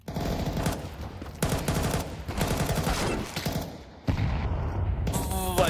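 Pistol-round gunfire in an esports match of a tactical shooter, with rapid bursts of shots and mechanical clicks rattling in dense clusters under loud, continuous game noise.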